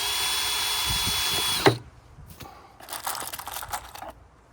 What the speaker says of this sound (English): Pre-drill down here.